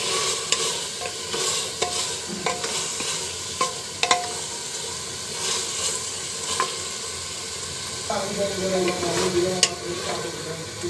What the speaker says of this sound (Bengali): মাংসগুলো সব কিছু খুব সুন্দরভাবে মিশিয়ে নিব।